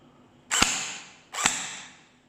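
A custom BD556 M4 CQB gel blaster fires two sharp shots about a second apart, each a crisp snap with a short mechanical tail, close and clear with no talking.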